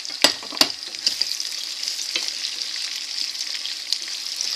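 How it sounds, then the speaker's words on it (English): Green beans frying in olive oil in a pan, a steady hiss of sizzling with a few sharp clicks and stirring scrapes near the start. "After this step happens, you're going to put the spring beans in it."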